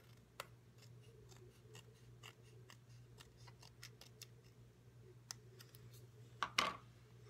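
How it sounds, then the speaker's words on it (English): Scissors trimming the edge of a paper card in a hotel room: a string of faint, close, crisp snips at an irregular pace over a steady low hum, ending in a louder cluster of cuts, with no talking. "I need to trim the edge of this"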